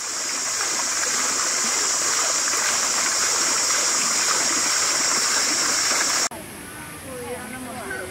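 A flowing stream at a ranch, a loud, steady rushing and splashing of water that fills most of the clip before abruptly dropping to a quieter trickle near the end.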